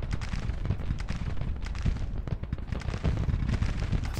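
Continuous battlefield gunfire in Grand Tactician: The Civil War, with artillery including 24-pounder guns firing over dense volleys of musketry, a steady loud barrage of overlapping booms and cracks with no talk.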